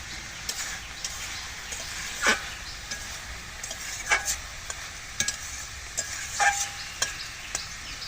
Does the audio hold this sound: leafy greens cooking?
yes